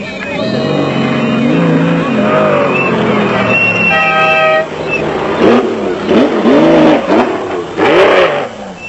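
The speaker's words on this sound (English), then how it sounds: "ichard Schilling and Ashley Thorne set a brisk pace in the huge Mototech V8 race car." Huge Mototech V8 off-road race car during the 1996 Toyota 1000 desert race, its engine revving loudly and surging through rising and falling pitches, close by, with a brief horn-like tone in the middle and a voice talking over it.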